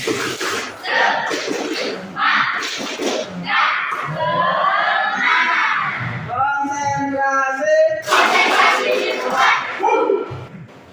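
A classroom of students performs the tepuk semangat, a rhythmic clapping chant with shouted voices, loud and close, with bursts of group clapping and chanting that end in a cheer.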